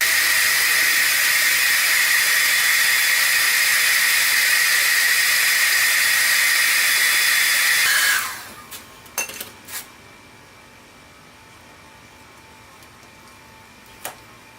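A heat gun blows a steady, loud hiss onto a badge on a 15-year-old car's paint for about eight seconds, then cuts off, leaving a few faint clicks and taps in a quiet background.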